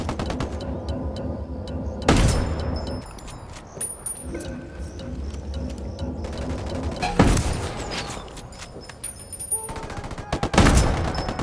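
Gunfire from the video game Ghost Recon Wildlands, with three loud, sharp bursts cutting over a constant mechanical and ambient game background, fired at an enemy gun turret.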